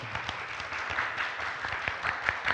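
An audience at a democracy forum in Gwangju applauds, producing a dense, steady wash of clapping from many hands that carries on evenly through the moment, with no voices over it.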